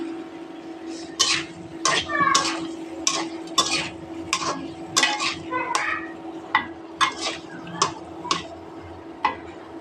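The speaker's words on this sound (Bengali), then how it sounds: "এখন আমি এর ভিতরে আলুগুলো দিয়ে দিলাম" Potatoes tossed into a pot of spiced paste being fried and stirred, a run of sharp scraping and clattering strokes in an uneven rhythm over a steady low hum, fairly close.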